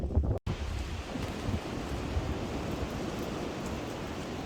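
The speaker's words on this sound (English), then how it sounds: "So today is a windy day." Constant rushing wind blows outdoors, a broad steady roar with a brief dropout near the start and no voices.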